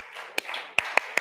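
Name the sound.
audience clapping a rhythm pattern together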